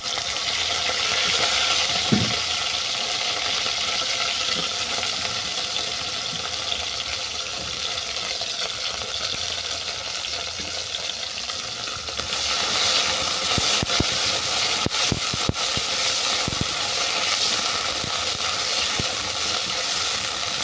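Cut elephant foot yam stems dropped into hot mustard oil with popped black mustard seeds, giving a loud, steady, dense sizzle throughout with a few sharp crackles and clinks, no talk.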